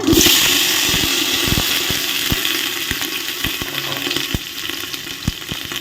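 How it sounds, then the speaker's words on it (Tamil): Mustard seeds, urad dal and cumin sizzle steadily in hot oil in a pan, with a loud continuous hiss and scattered sharp pops and crackles throughout, no voices. "இப்போது நல்லா எண்ணெய் சூடாக வச்சு கடுகு, உளுத்தம்பருப்பு, சீரகம் போட்டு உடனே"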